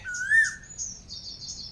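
A bird calls from a custard apple tree on a natural farm, giving a short series of clear, high whistled chirps, fairly close and alone against a quiet background.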